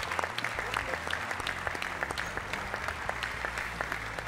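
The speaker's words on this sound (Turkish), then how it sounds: "Ve en büyük alkış" A television talent-show final audience in Turkey applauds steadily with dense, continuous clapping from many hands, crowd noise mixed in.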